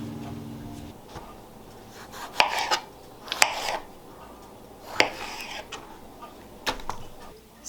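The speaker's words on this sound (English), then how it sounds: "We're gonna start coring and quartering all of the tomatoes." Knife cutting tomatoes on a board for coring and quartering, with irregular soft thuds and scrapes against a quiet background of kitchen hum.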